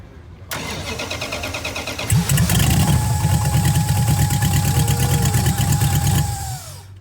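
An abandoned Dodge Challenger's engine cranks and catches on its first start in 35 years, then settles into a steady, loud idle for several seconds before shutting down near the end.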